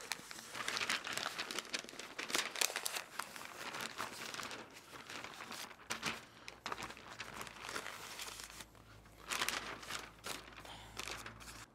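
Stiff butcher paper crinkles and rustles continuously as it is folded and tucked around a smoked brisket, with brief tearing-like scrapes and handling noises up close.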